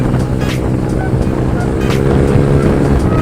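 A borrowed motorcycle rides along at speed, its engine and wind rushing in a loud, steady roar close to the rider, with no talk.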